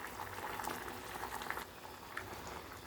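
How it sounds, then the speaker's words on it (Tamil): Sambar with added water bubbling at a rolling boil in a pot, a close, continuous crackle of popping bubbles with small bursts, heard on its own. "இதுவும் நல்லா கொதிக்கட்டும்"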